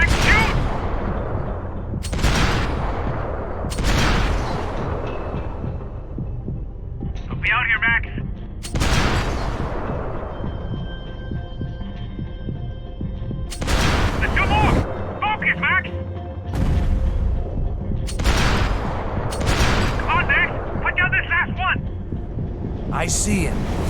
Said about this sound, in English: Shoot, Mac, shoot!